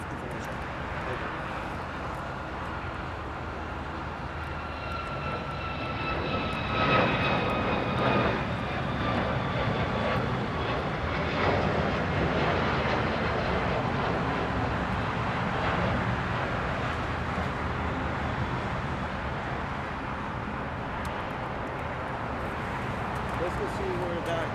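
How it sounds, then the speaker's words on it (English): A United Boeing 737 MAX 8 jet passes with a sustained, rising and falling engine roar, moderately near and steady for the whole stretch, with a voice heard over it. "Here goes United MAX. I think this is a MAX 8, assumingly."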